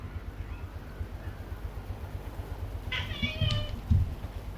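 A cat gives a couple of short meows near the end, close and clear over a quiet low hum, the calls coming in quick succession.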